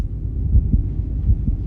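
A low, muffled heartbeat sound effect from the Daredevil series thumps at a slow, steady pulse under a dull, rumbling hum, with no voices.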